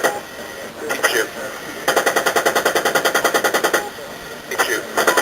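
Automatic machine gun fire in a shooting game, heard as rapid, loud bursts of evenly spaced shots, one short burst then a longer sustained one and another brief burst, with voices talking over the action.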